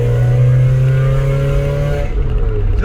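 Mazda Eunos car engine revving hard while driving, a loud, close, rising engine note that holds steady and then drops away near the end, with no talk.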